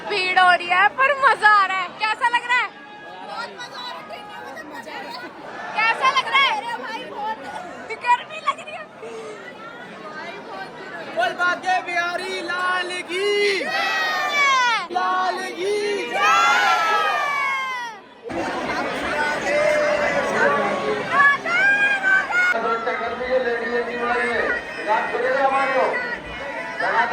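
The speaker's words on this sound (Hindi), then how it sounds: "बहुत भीड़ हो रही है पर मजा आ रहा है" A dense crowd of pilgrims at a temple in Vrindavan, with loud overlapping chatter, shouts and voices pressing close throughout, punctuated by bursts of cheering and chanting.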